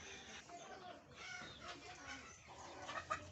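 Three-month-old Fayoumi chickens cluck softly in a small farm flock, with scattered, overlapping faint calls and one brief louder squawk near the end.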